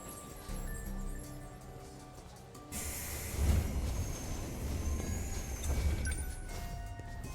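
A train in the video game 13 Sentinels rumbles and hisses, a steady rolling rail sound with swells and a sharp onset partway through, moderately loud with no talk.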